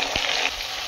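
A ginger and green chili paste goes into a hot pan for chana dal, giving a brief bright burst of sizzling with a soft thump as it lands.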